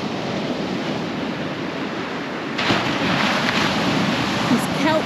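Ocean breakers rolling onto the shore, a continuous broad wash of surf with a swelling surge partway through, with some wind noise against the microphone.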